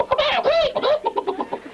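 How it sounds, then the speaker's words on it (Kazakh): Chickens cluck in a lively, overlapping run of short calls, close and fairly loud, continuing through the whole moment with no talk. "Ана яқта тауық айтып отыр."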